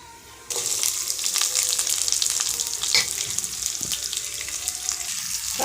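Onion and curry leaves drop into hot oil with mustard seeds and dal, setting off a sudden burst of loud, continuous crackling sizzle that keeps going steadily after a quiet first half-second.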